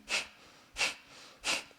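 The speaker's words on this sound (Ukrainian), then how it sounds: "ми починаємо з дихання капалабхаті" Kapalabhati breathing: three sharp, forceful nasal exhales in a steady rhythm, each short and close, with quiet pauses between them.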